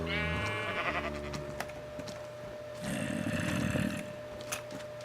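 Sheep in the Minecraft game bleat in short wavering calls, one near the start and another later, each a nasal quavering bleat standing out over quiet game ambience.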